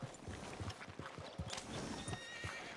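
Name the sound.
horse neighing in video game Red Dead Redemption 2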